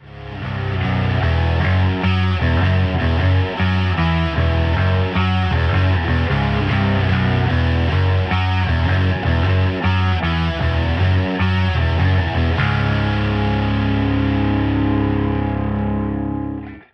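Distorted rhythm guitars and bass run through the Bias Amp simulator play a dense, loud, continuous riff for about seventeen seconds, with bright, punchy bass and thick crunch throughout.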